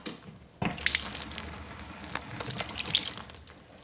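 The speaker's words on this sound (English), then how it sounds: "Probably going to get a little bit of water out that's been sitting in that hose." Leftover water spills from a loosened flexi hose in a plumbing job. A faint drip comes first, then a steady, close trickle and splatter runs on with small surges and no talking.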